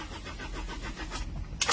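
A Ford car engine cranks and fails to catch even when warm, a steady low churning turnover with a brief sharper burst at the end, close and fairly quiet.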